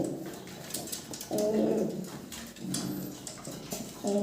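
Fancy pigeons cooing in soft, low repeated bursts, close by, with short breaks between calls and quieter background chatter of other birds.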